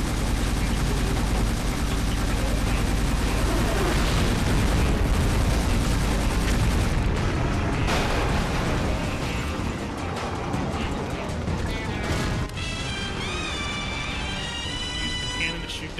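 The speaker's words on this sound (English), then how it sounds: "Exploding a bunch of barrels." Barrels blowing up amid bursts of gunfire in the video game 007 Agent Under Fire, a dense, loud run of explosions and rapid shots with game music layered in, easing slightly toward the end.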